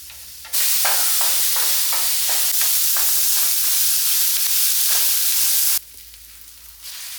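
Onion and green chilli sautéing in hot coconut oil give a loud, steady sizzle, broken by a run of rhythmic scraping stir strokes before the frying hiss carries on alone.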